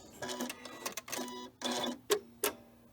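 A Janome 9450 sewing machine stitching in reverse to tie off quilt binding: several short mechanical whirring bursts, then two quick sharp clunks, close and clear with no talking.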